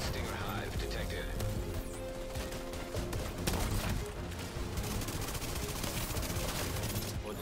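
Gunfire in The Division 2 online shooter, with dense bursts of automatic shots and scattered impacts running throughout beneath game music and someone talking over it.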